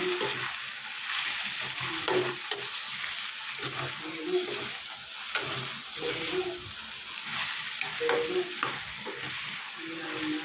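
A bottle gourd and prawn curry is stirred in a pan with a spoon scraping the bottom, producing rhythmic scraping strokes over a soft sizzle, close by and without talk.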